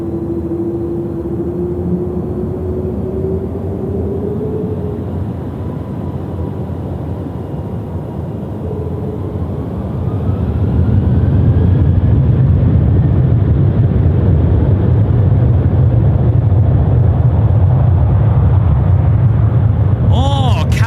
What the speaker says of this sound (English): Qantas 499, runway 16 right, cleared for takeoff